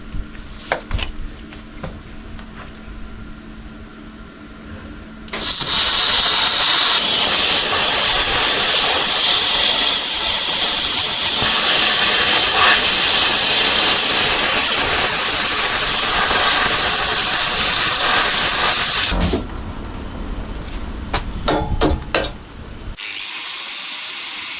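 A plasma cutter slices through steel, one loud steady hissing roar lasting about fourteen seconds, with workshop clatter before and after.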